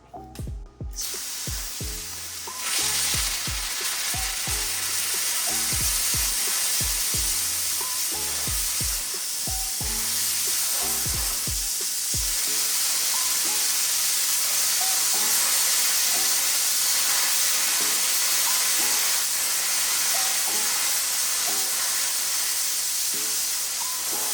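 An ANDELI CUT-50DS plasma cutter running at 50 amps full power on 60 pounds of air pressure, cutting metal. A few seconds of clicking lead into a loud, steady, roaring hiss that continues to the end.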